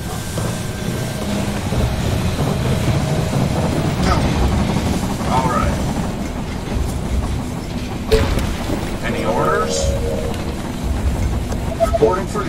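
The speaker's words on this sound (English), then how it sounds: "Train has arrived at the station." A train rolls into the station in the zombie strategy game They Are Billions, a steady, loud low rumble with rattling that holds throughout, with faint voices and scattered game effects over it.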